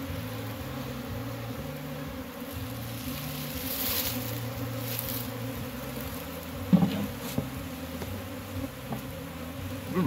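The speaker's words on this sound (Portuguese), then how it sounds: "Bruno, as abelhas não pisam aqui, por favor, com cuidado." Honeybees buzz steadily during a colony rescue, a low wavering hum close by, with a few soft knocks and handling sounds near the end.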